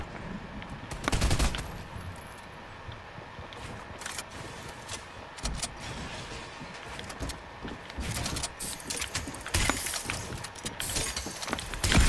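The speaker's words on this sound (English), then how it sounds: "Grenades are being thrown in." Grenade blasts in Fortnite thrown into a house, several sharp loud bursts scattered across the clip amid crackling, splintering debris and ongoing game noise, with no talking.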